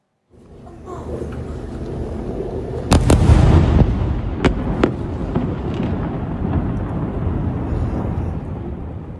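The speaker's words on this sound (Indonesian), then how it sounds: "Suara dentuman serangan Israel menggema di Lebanon Selatan bersamaan dengan kilatan cahaya." Deep, rumbling explosions from Israeli strikes echo in the distance in southern Lebanon, with one heavy blast and a few sharp cracks, followed by a continuing low rumble.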